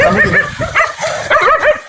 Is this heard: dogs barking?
yes